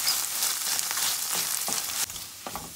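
A stew base for king fish stew fries in a pan with a steady close sizzle, broken by several soft scraping stirs, with no talking.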